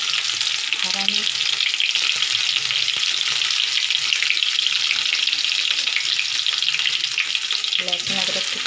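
Cumin seeds and green chillies sizzle in hot oil for Indian egg fried rice, a steady, loud, bright frying hiss that carries evenly from start to finish, with faint clinks of stirring and no talking.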